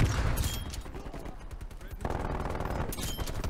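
A sentry turret in Call of Duty: Black Ops Cold War multiplayer fires in rapid automatic bursts, loud and close, with a brief lull mid-way before firing resumes, mixed with other game noise.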